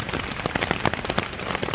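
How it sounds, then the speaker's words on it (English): Heavy rain falls steadily during a motorcycle tour in the Alps, a dense, continuous patter of drops on surfaces close by, with no voices. "there's no sign that it's going to stop raining anytime soon"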